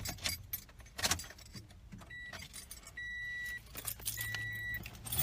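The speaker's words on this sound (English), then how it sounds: "I'm trying to get my keys off of my lanyard so that I can put them in the drive" Keys jangling in a car as they are worked off a lanyard, bursts of metallic clinking between quieter stretches, with a couple of electronic chimes from the vehicle.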